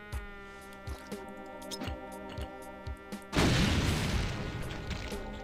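A grenade explosion in the Brutal Doom video game: a sudden loud burst cutting across rhythmic tonal game music with periodic thuds, followed by a broad crackling roar that slowly fades.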